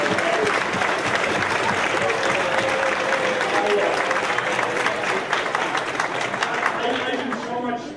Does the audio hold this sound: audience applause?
yes